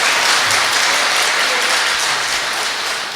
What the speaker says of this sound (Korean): 하여튼 뭐 박수 치는데 전문가예요.